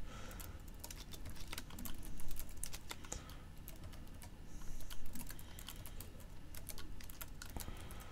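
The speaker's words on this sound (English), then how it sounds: "I'm going to type in" Typing on a computer keyboard into a rich text editor, with quick uneven bursts of key clicks and short pauses, fairly close and faint, with no voice.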